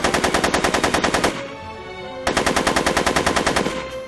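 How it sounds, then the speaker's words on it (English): Rapid bursts of machine-gun fire ring out in the video game Back to the Future: Get Tannen, two loud rattling volleys split by a short pause with fading echoes. "Are you shooting at me?"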